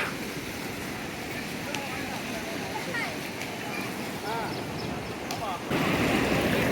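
Water rushes out of Mettur dam as a constant loud roar of churning flow, heard nearby over wind buffeting, with people talking over it.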